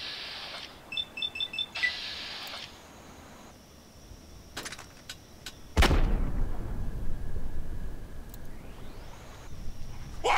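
Grenade blast in the video game Fallout 3: after short beeping game tones, a loud broadband explosion hits midway and rumbles with a long decaying tail, alone without talk.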